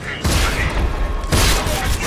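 Grenade blasts in the first-person shooter game Rage, with two loud, broad booming bursts in quick succession, each followed by a rumbling tail.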